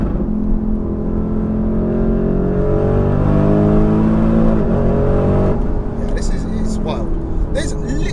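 Porsche Cayenne Turbo GT SUV accelerating hard, a loud sustained engine roar with rising revs and gear changes, heard from inside the cabin, then easing off as people talk over it.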